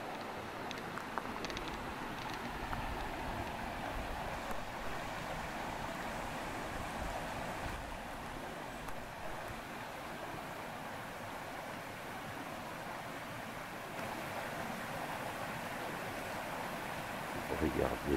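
A stream flows beneath a bridge on a countryside hike at Pont Colin in Belgium, giving a steady, full rushing wash of water that stays constant throughout with no clear voices.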